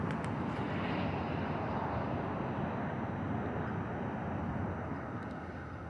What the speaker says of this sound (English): It's the airplanes.